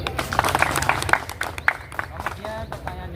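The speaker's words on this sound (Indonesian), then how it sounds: "Beri tepuk tangan." Short burst of applause from a classroom of students during a basketball lesson, scattered hand claps mixed with chatter and voices.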